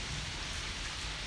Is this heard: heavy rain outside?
yes